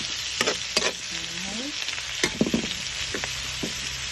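Tomatoes sizzle in a hot pan for pinakbet, cooked in a traditional clay pot, with a steady frying hiss broken by several sharp clinks and scrapes of stirring.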